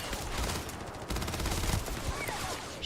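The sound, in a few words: gunfire from a pea shooter gun in the video game Starfield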